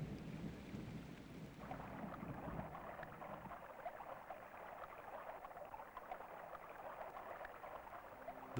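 Steady heavy rain from a desert thunderstorm pours throughout, with a low rumble of thunder rolling in the first couple of seconds before easing into a dense, hissing downpour.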